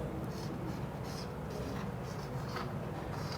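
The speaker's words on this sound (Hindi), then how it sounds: "तो आइए हम पहले लिखते हैं" Chalk or marker scratches across a board in a physics lecture, a series of short strokes and taps heard over a steady noisy room background.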